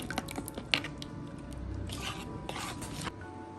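Soft, wet squishing and sticky slapping as flour and cold water are worked by hand into egg roll dough, with irregular squelches and light taps close by.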